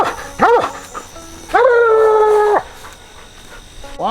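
A tree hound dog howls at a tree outdoors in hot weather: two short rising yelps, then a long sustained loud howl, followed by softer whimpers and another brief yip near the end.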